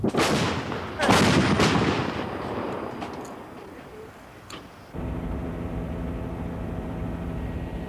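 Military artillery firing at the Camp Hansen U.S. Marine Corps training area on Okinawa: two heavy booms near the start with long rumbling decay, a fainter crack later, then steady background noise.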